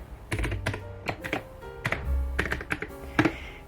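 Typing on a computer keyboard with one hand, irregular close clicks and taps in small bursts, quiet and alone.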